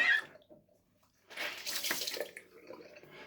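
Tap water runs into a sink as shaving lather is rinsed off after a straight razor shave, a soft close splashing that starts after a brief pause and flows steadily, quiet with no talking.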